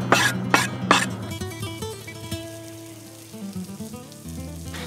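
Garlic and shallots hit a buttered pan for a heart meat pasta sauce, sizzling with a couple of sharp bursts at the start, then a steady frying hiss under clinking and background tones.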